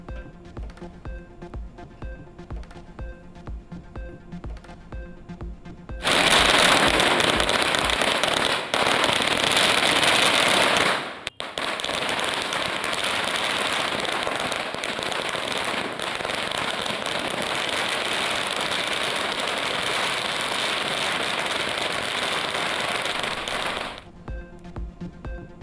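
Dense, continuous crackling of firecrackers bursting in rapid volleys during Diwali celebrations in Chennai, loud and close, running for most of the clip after a quieter start.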